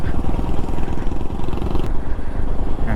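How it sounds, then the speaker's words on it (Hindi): A motorcycle coasting downhill on a cliffside mountain road in India, its engine rumbling low and steady with a rattling, clattering texture, close and loud with no talk. "मेरी बाइक अपने आप चलती हुई क्योंकि सारा डाउन हिल है।"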